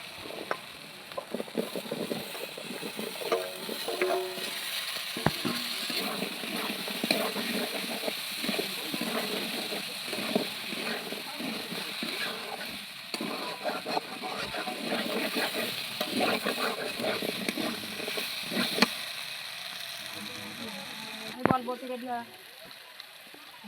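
Potatoes sizzle and crackle in spiced oil in a pan while being stirred, a dense close frying hiss with scraping stirs running throughout.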